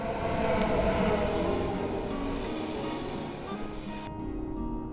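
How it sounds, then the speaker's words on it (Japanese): An Austrian Railjet passenger train rumbles steadily past, close and loud, with a broad roar of wheels and rails that cuts off abruptly near the end. "やってきましたこちらの列車で戻りましょう。"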